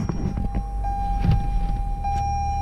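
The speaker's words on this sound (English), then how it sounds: "Start your car." A 2018 Toyota Camry starting up in the cabin: a low engine rumble builds and settles into a steady idle, with a constant high chime tone and a few faint clicks.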